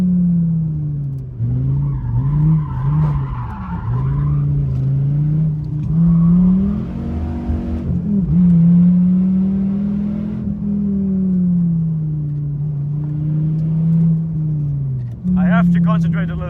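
Dodge Viper ACR driven hard on a mountain road, its engine droning loud and steady with rising and falling revs, close-up from inside the car, with a brief higher whine near the end.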